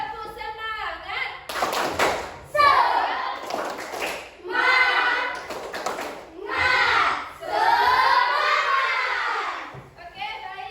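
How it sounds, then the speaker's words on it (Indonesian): Schoolchildren repeat the tepuk semangat chant, a loud group of young voices calling out rhythmic lines broken up by quick bursts of unison clapping. "Sekali lagi ya. Tepuk semangat."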